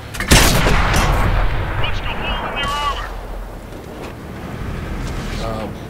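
A Centurion tank's main gun fires in World of Tanks, one sharp, heavy boom near the start that rolls off into a long fading rumble, with game sounds and faint chatter continuing after.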